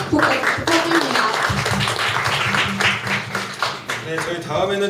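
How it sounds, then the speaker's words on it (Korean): Applause from an audience at a Korean life-school talk event, continuous dense clapping with voices and some louder individual claps over it. "다시 한번 큰 박수 부탁드립니다"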